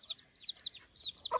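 Free-range village chickens cluck in quick, scattered bursts after being let out in the morning, fairly close and quiet, with no voices.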